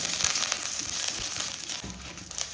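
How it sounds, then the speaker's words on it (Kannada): Peppercorns and curry leaves fry in a spoonful of oil in a pan for a Mangalorean home recipe, giving a loud, continuous close sizzle and crackle with no speech. "ಈ ಮೆಣಸನ್ನು ಸ್ವಲ್ಪ ಫ್ರೈ ಮಾಡಬೇಕು ಇದಕ್ಕೆ ಕರಿಬೇವು ಕೂಡ ಸೇರಿಸಿ ಸ್ವಲ್ಪ ಇದನ್ನು ಫ್ರೈ ಮಾಡಿ"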